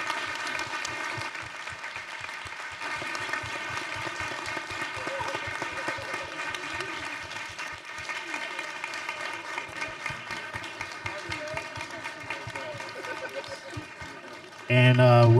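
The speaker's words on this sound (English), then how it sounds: "let's give our speakers a round of applause" Audience applause for panel speakers after a Q&A session, a long, steady wash of clapping with rhythmic hand claps mixed in, holding an even level before a louder burst of sound cuts in at the very end.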